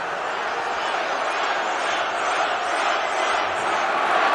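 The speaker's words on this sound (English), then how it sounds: "The crowd is, of course, going wild." A huge crowd of about 15,000 at a Donald Trump rally in Millington, Tennessee roars in a continuous, dense wall of cheering and shouting, sustained at steady loudness throughout.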